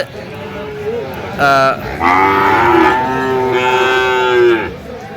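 A Sahiwal bull calf moos loudly and close by at a cattle market, a long drawn-out bellow, with a second shorter call before it amid outdoor crowd noise.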